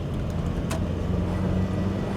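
A Mk1 Ford Fiesta or Austin Metro pulls away from a roundabout, its small engine giving a steady, loud drone heard from inside the cabin, with no voices.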